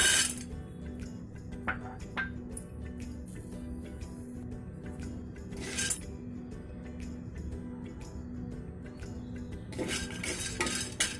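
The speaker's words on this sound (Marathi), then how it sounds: "हे सांडगे आता आपण व्यवस्थित भाजून घ्यायचे स्लो गॅसवरती जास्त करपवायचं नाही" Mixed-lentil sandge made from moong and urad dal roasting in a kadhai over a low gas flame, with a spoon clinking and scraping against the metal in scattered bursts over a soft steady background hum.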